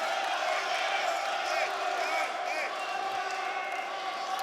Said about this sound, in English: the crowd roaring their man on